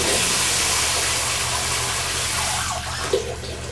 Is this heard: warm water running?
yes